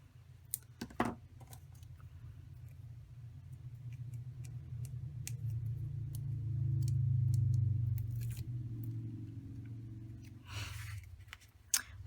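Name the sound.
scissors snipping foam adhesive strip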